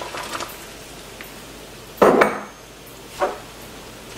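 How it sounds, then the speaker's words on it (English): A whisk knocks against a pot of cinnamon jelly as sugar and pectin go in: a few faint taps early, one loud clattering scrape near the middle, then a softer clink, close by. "I'm going to go ahead and just whisk that a little bit to break off those clumps"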